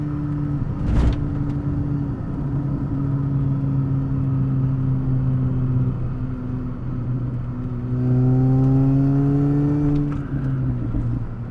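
A Mini Cooper S engine drones steadily while driving, its revs climbing and dropping through a gear change, with a brief knock early on and no speech.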